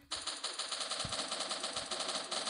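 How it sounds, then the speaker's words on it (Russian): Automatic gunfire from a weapon in a video game, a rapid, steady stream of shots that starts abruptly and continues at an even, fast rhythm, fairly loud and alone. "давайте посмотрим, как он стреляет"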